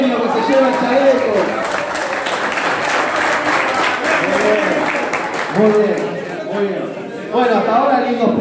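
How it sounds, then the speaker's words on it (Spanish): Applause from an audience cheering a prize winner at a kayak fishing clinic raffle held at a fishing club, steady and dense over crowd chatter, with voices talking and calling out throughout. "aplauso para Eugenio que se lleva el chaleco"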